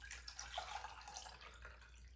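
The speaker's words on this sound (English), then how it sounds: "I'm also going to pour some water into here." Water poured into a container for a floral centrepiece with foam, a faint steady trickling and splashing that runs unbroken from start to end.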